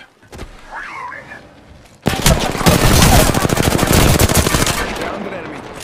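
Sustained automatic rifle fire in Apex Legends, likely from a legendary R-301, a loud rapid unbroken burst that starts abruptly and rattles on for several seconds, with an in-game voice line heard earlier.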